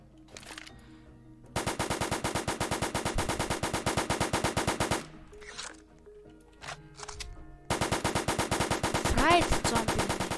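Rapid automatic gunfire from an Undead Defense Tycoon zombie game comes in long rattling bursts, loud and close, separated by short pauses with a few scattered single shots.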